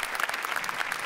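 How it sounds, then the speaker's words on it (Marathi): Steady applause from a studio audience on a Marathi TV comedy show set, dense and continuous throughout a brief burst with no pauses. "जोरदार टाळ्या त्यांच्यासाठी."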